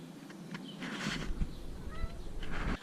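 A cat meows a few times, with soft rustling and thumps nearby; close and moderately quiet.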